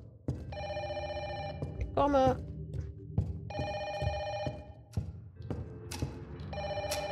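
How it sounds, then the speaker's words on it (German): An old telephone bell rings in bursts in the horror video game Don't Be Afraid, repeating over a dark ambient rumble while someone speaks briefly between the rings. "Telefon."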